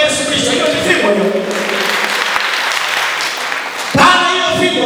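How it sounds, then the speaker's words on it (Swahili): Church congregation clapping during a Sunday worship service, a dense, steady patter of many hands throughout, with a voice speaking over it near the end. "Ongeza makofi kwa Yesu Kristo."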